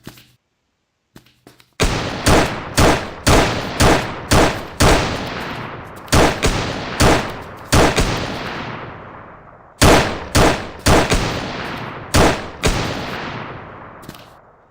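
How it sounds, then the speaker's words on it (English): Gunfire from an enemy shooting in a shooter video game test: loud repeated shots in irregular bursts, each with a decaying tail, with a short pause midway before another volley. "So now the enemy should stay at the same place and shoot from there."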